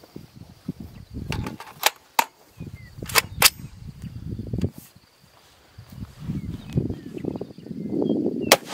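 A .308 rifle fired into a mass of Orbeez water beads outdoors, with several sharp, brief cracks standing out over low rumbling wind and handling noise, then a longer stretch of dull rustle.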